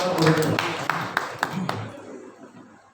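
Audience applause for school student council candidates at a high school debate: a short run of scattered claps fades out over a few seconds beneath a speaking host.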